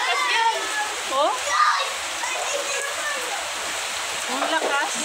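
Strong, steady gushing of water from a leaking tap on a flooded street in Quezon City, a continuous loud rush with voices talking over it.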